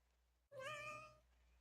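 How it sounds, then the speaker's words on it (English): A cat gives one clear, rising-then-falling meow close by, loud against a quiet background, with a brief hush just before it. "I heard your cat meow"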